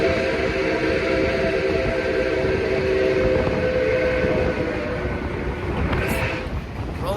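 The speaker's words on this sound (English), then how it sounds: "Rolling down the track." Nickel Plate Road 765, a steam locomotive, rolls down the track working hard at full steam. It gives a loud, continuous rumble and clatter with a steady roar, and a brief whistle-like tone comes near the end.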